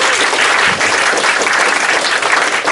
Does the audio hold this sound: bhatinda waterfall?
no